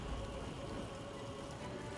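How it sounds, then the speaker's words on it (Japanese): Steady, faint rain from an ice storm spell in Baldur's Gate 3 hisses evenly over a low background drone. "いい雨降ってきた"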